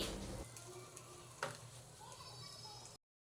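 A small potato bajji fries in hot oil for deep frying, making a steady crackling sizzle with a brief sharp clatter midway before the sound cuts off abruptly.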